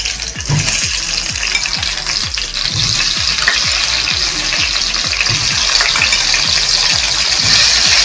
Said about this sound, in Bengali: এবার আমি আলুগুলোকে ফ্রাই করব